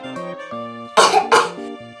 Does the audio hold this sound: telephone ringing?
no